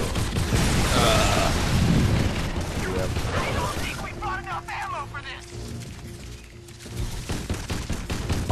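Dense gunfire and blasts from the EDF: Insect Armageddon video game, loud rapid bursts crowding the first half before thinning into a mechanical whine and scattered shots.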